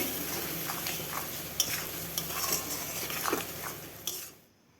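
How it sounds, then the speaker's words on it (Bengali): A spoon stirs spices with chili powder and ground coriander frying in a pan over medium gas, a soft steady sizzle with scraping strokes and a few light clinks, close and fairly quiet, fading out at the end. "লঙ্কা গুঁড়ো হাফ চামচ দিয়ে ভালো করে নেড়ে নেব ভাজতে ভাজতে"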